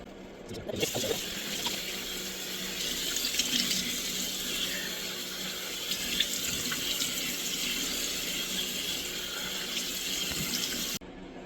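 Warm water runs steadily from a faucet into a sink while soap is rinsed from a face during a facial, a continuous close splashing flow with light sloshing from hands, stopping abruptly near the end.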